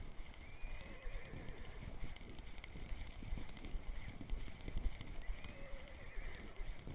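Horses whinny and neigh in the video game Russian Fishing 4 over a steady clip-clop of hooves, with a continuous hum behind them and no talking.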